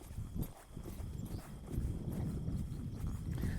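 Horse hooves clip-clop steadily on the ground during training ahead of a horse show, a regular walking rhythm of moderate loudness with some background noise.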